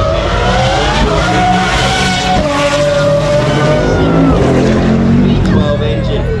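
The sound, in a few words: sports cars driving at a motorsport festival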